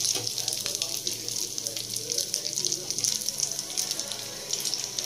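Whole spices frying in hot oil in a pan for prawn malai curry, a steady hissing sizzle that stays continuous and close, with a voice talking over it.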